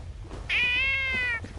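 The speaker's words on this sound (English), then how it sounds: "That's why you're coming down to meow at me?" A house cat lets out a single loud, drawn-out meow close by, lasting about a second, in a quiet room with no talking.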